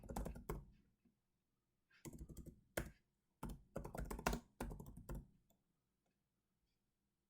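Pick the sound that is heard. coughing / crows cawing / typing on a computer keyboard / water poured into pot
typing on a computer keyboard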